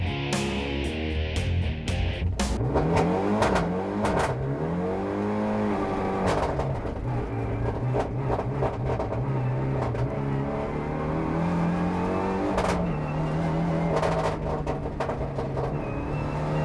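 A Renault Mégane RS N4 rally car on a Rallye du Var special stage, its engine revving hard up and down through repeated gear changes, loud and close throughout with no talking.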